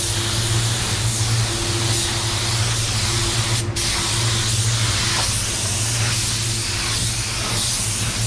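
A spray gun lays down candy red paint on an automotive repair area, giving a steady, continuous close hiss that holds for the whole stretch with only slight dips, over a low hum of shop equipment.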